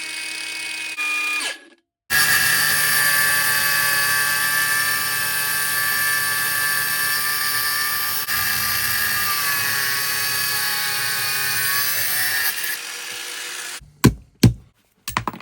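A Lidl Parkside Performance angle grinder runs at speed setting 6 with a loud, steady high-pitched whine for about twelve seconds, then spins down, followed by a few sharp clicks and knocks.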